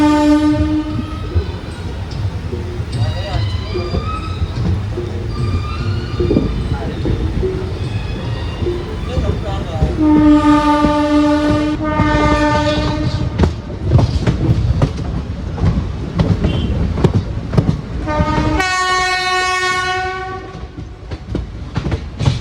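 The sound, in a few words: train horns from the banker and front locomotive departing Punalur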